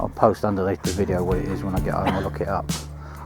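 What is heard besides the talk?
No distinct noise like a dog, phone or traffic.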